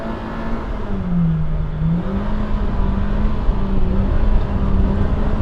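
Polaris RZR Pro R side-by-side, 2025 model, driven at full throttle off-road: a loud, steady engine drone that dips in pitch and climbs again, with continuous rumble and wind, no talking.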